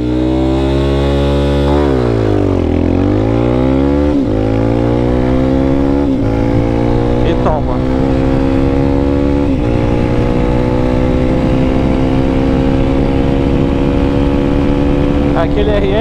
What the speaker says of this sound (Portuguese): Vou fazer uma arrancada rápida de Lander aqui.